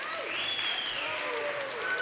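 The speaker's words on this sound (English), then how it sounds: "One last big round of applause." Audience applause fills a college baccalaureate service for the class of 2023, a steady wash of clapping hands that holds at an even level for about two seconds with no voices over it.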